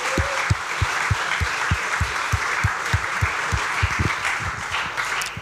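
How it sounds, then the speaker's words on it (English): Audience applause for a game jam winner at an indie games event in Helsinki, a steady patter of many hands clapping in a hall, moderately distant, with a faint voice or two over it. "Let's give him a round of applause"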